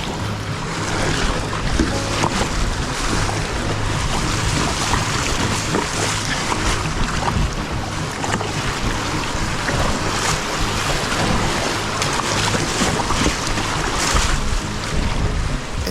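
Strong gusting wind batters a river in the Ozarks during a spring kayak-camping trip, a steady loud roar with buffeting microphone rumble and rushing water throughout, no voices.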